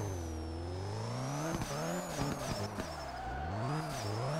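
A race car in the Hashiriya Drifter video game revs hard and varies its pitch through shifts, with tire squeal and skidding layered over a steady engine drone.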